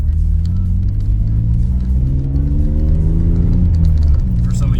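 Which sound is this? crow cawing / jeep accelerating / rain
jeep accelerating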